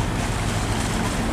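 Loud, steady engine rumble of a pair-trawling fishing boat running at speed off Binh Thuan, Vietnam, mixed with wind and water noise, continuous and close throughout.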